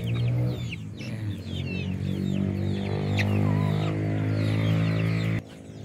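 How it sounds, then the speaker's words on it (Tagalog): Rhode Island chickens cluck steadily and close by with layered, overlapping calls and a few higher squawks, continuing without pause until the sound drops off abruptly near the end. "yung pinakita kong mga nanay nga native na naglimlim, nagpisa sa kanila, Rhode Island chicken."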